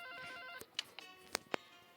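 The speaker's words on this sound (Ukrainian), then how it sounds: "Йой, телефонний дзвінок." A telephone rings in the video game Five Nights at Froggy 2, a bright electronic ring followed by several sharp clicks, moderately quiet with no talk over it.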